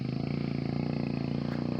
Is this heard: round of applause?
no